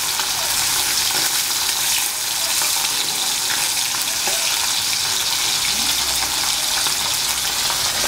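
Pabda fish frying in oil in a covered pan make a loud, unbroken hissing sizzle, dense and steady from start to finish, with no talking.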